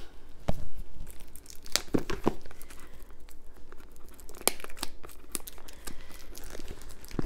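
A package is opened by hand, with close crinkling and rustling of wrapping broken by several sharp tearing snaps, continuous and moderately loud throughout.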